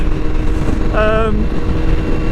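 A 2021 Honda CBR1000RR-R Fireblade SP sport motorcycle's exhaust drones loud and close at high revs, around 5,000 to 6,000 RPM, a steady raspy roar, with a brief vocal exclamation rising over it.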